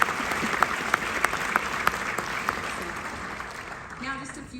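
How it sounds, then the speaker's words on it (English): Steady audience applause at a classic film festival screening, a dense, even patter of many hands with a few sharper claps standing out, fading toward the end as a voice begins. "give a round of applause for"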